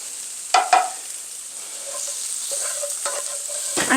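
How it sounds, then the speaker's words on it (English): Onions and garlic sautéing in a pan, with a soft sizzle underneath and two sharp scrapes of a utensil stirring near the start, then lighter stirring taps. "I'm going to saute the onions until they get translucent, and then I will add the garlic"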